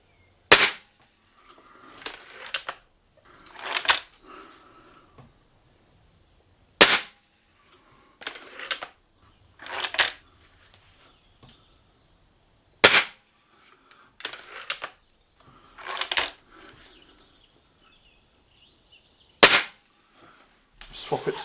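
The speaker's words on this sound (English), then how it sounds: "Right, just a few shots through the chronograph." A Gamo Big Cat spring air rifle fires repeated sharp cracks through a chronograph, about eight shots spaced a few seconds apart, each separated by cocking and loading clicks and rattles, with no talking.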